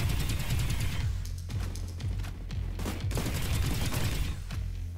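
Rapid automatic bursts from an L85 rifle in a first-person shooter, loud and close, firing in repeated strings with short pauses between them.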